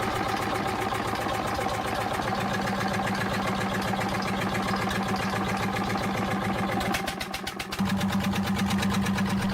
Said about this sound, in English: The Andoria S-60 is a four-stroke horizontal diesel engine featuring indirect fuel injection and large external flywheels